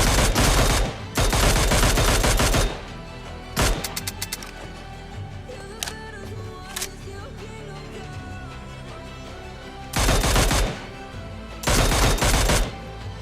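Automatic fire from a DMR and an M16A4 in BGMI/PUBG rattles in several loud bursts separated by quieter gaps with scattered single clicks and taps.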